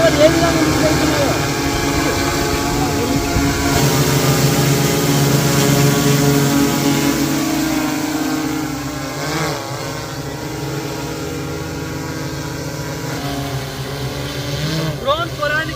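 An agricultural spraying drone flies over a farm field, giving off a steady, fairly loud motorised hum that holds for the whole stretch and eases slightly near the end.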